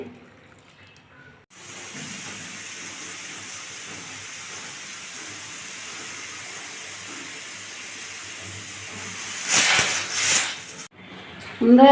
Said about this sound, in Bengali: আমি প্রেশার কুকারের ভিতর গরম জলটা দিয়ে দিচ্ছি